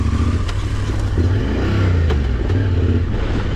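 A Yamaha Tenere 700 motorcycle engine runs steadily on a single-track trail, its low, close, continuous drone rising and falling slightly with a few clattering knocks over the ride.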